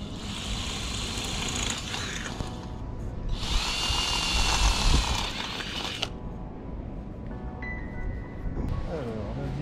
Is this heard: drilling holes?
yes